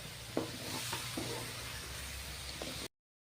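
Quail pieces sautéing with chili powder in a pan give off a steady, close sizzle, broken by a few sharp spatula scrapes and clacks, before cutting off abruptly.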